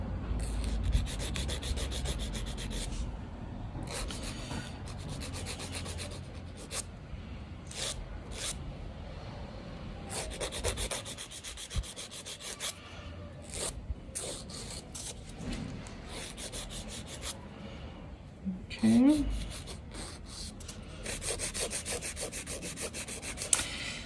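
Fingernails filed back and forth with a 180/240 grit nail file, close and dry rasping strokes in repeated bursts with short pauses between them.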